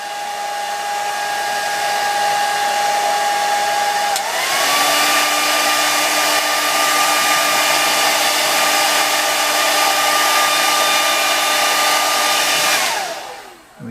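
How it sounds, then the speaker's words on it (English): Hair dryer blowing warm air onto action figure joints, a steady loud whir that steps up in pitch partway through as the setting changes, running continuously for several seconds before switching off. "So quick blast with the hairdryer."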